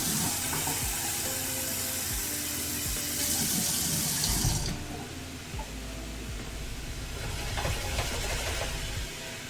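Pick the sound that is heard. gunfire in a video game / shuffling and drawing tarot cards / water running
water running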